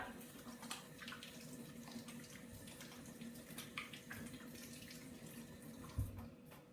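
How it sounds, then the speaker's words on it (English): Hands washed under a running kitchen tap, a steady close stream of water splashing into a sink, continuous for the whole stretch with a small knock near the end. "I'm going to wash my hands really, really quickly"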